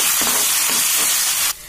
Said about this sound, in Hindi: इसको हम अच्छे से भूनेंगे और इसको ब्राउन होने तक अच्छे से भून लेंगे।